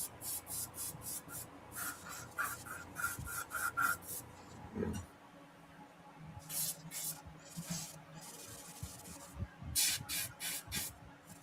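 A Sotar airbrush sprays paint in a run of short, hissy bursts, close and fairly quiet, with soft rubbing and handling noises between the sprays.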